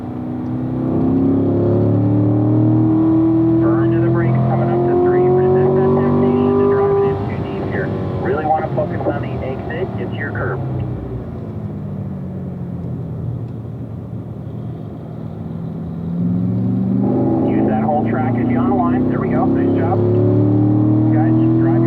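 A Corvette engine on a race track droning under throttle, rising and falling in pitch as it accelerates, eases off and pulls again, with an instructor talking over it.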